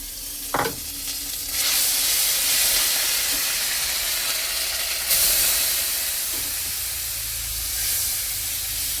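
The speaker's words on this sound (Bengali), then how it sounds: "এবার আমি কড়ার মধ্যে জিরে ফোড়ন দিয়েছি" Cumin seeds sizzle in hot oil in a wok, a steady loud hiss and spatter that swells sharply after a soft clink, with occasional stirring scrapes and no talking.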